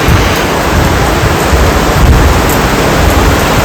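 Heavy monsoon rain pours over a garden where children are playing cricket, making a dense, steady roar that stays loud and unbroken throughout, with no voices.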